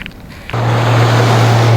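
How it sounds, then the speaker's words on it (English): A car passes close by on a road near an old mangrove wharf, its engine and tyre roar rising suddenly after a quiet start and holding loud and steady. "That's the second car I said they wouldn't be here."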